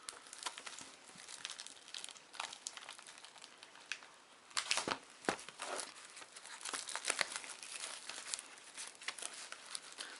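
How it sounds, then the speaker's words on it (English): Sealed Galactic Empires card deck packaging being torn open by hand, with close, uneven crinkling and ripping bursts of plastic and paper, loudest in several sharp tears midway. "So let's tear into this and see what awaits us inside the Galactic Empires box."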